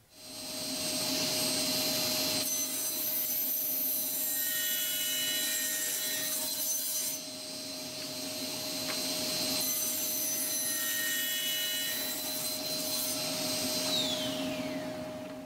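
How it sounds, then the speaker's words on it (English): A power saw cuts 45-degree bevels into pieces of 2x6 lumber in two long passes: a loud whining motor with the rasp of the blade through wood, a short pause between cuts, and the motor spinning down at the end. "the first thing I'm going to do is cut 45 degree bevels into these pieces of 2x6"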